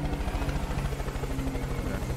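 A helicopter-like aircraft in Far Cry New Dawn passes overhead with a rhythmic rotor thump and a low drone, moderately loud and steady.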